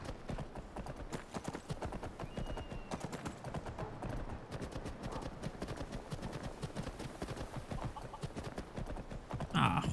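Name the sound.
horse hooves galloping in Skyrim video game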